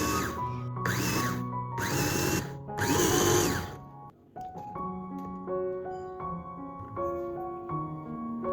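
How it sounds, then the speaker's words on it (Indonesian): An electric food chopper grinds panko breadcrumbs for chicken nuggets in four loud whirring bursts with short pauses between them. Steady tonal music follows once the grinding stops. "Untuk tepung panirnya ini aku mau chopper dulu ya, biar nanti tepung panirnya itu lebih hemat."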